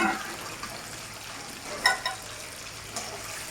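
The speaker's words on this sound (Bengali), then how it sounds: "তো এখন মাছটাকে প্রায় ভাজা হয়েই গেছে, এখন মাছটাকে আমি তুলে নেব।" Prawns frying in oil in a pan, a steady soft hiss of sizzling with a few brief clinks of a spatula, close and moderately quiet.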